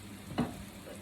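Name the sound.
fried rice with bacon, garlic and soy sauce frying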